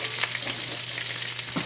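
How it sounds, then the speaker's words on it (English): Sous vide pork chops sear in a hot pan, a close, steady hiss of sizzling fat with faint crackles and a brief scrape at the end. "Now I want to get a good sear."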